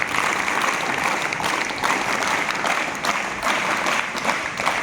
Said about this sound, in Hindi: scout clap go